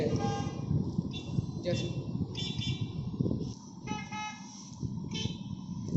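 A loud car horn blares in repeated honks from a loudspeaker, short bursts with brief gaps, while someone talks underneath.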